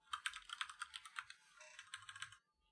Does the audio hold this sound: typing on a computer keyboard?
yes